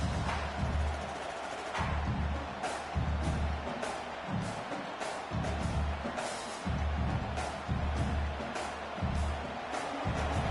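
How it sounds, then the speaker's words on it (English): Football stadium crowd roars as the defense tries to hold near the goal line during a UCF versus Vanderbilt game, a steady wash of distant cheering with rhythmic pulses and brief swells, no clear voices. "Crowd really making some noise now, trying to help out this defense to get this stop near the goal line."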